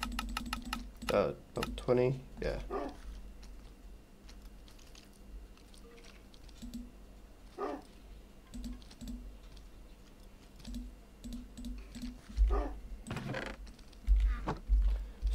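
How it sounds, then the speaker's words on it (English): Computer keyboard clicking in short bursts while playing a modded Minecraft game, quiet and intermittent under occasional speech. "So you're gonna hear a little bit of clicking because I have to get down to 22."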